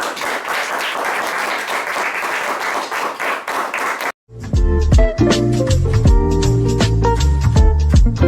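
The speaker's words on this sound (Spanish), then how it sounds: "Recibámosla con un fuerte aplauso." A storytelling festival audience in Medellín claps in a dense, steady round of applause for about four seconds. After a brief gap, loud music with strong bass takes over.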